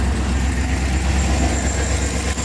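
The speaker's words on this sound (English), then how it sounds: "I hope you can hear me over the engine." A car engine idles steadily after being started, a loud, even mechanical drone with a constant low hum that holds unchanged throughout with no voices.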